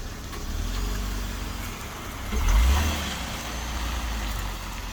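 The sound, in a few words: car reversing without brake noise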